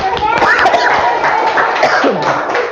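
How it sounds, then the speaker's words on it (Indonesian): A class of children clapping hands together in a short burst of quick, close claps, mixed with a teacher's voice and children's chatter. "Oke, tepuk tangan."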